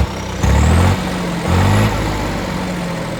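A small tractor engine runs nearby on a farm, a loud low idling drone that swells twice in short revving bursts before settling back.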